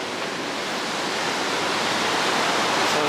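Water rushes over the Arizona Falls canal drop in Phoenix in a loud, continuous broadband roar that holds steady throughout.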